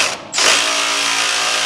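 Power tool or socket wrench whirring while it fastens hardware on a 1960 Pontiac Bonneville fuel tank, one short burst close by that settles into a steady buzzing drone.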